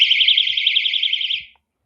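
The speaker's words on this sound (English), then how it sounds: "siren goes off. And that acts as your personal alarm" A door alarm siren, a shrill, warbling electronic tone, sounds continuously at close range for about a second and a half, then cuts off abruptly.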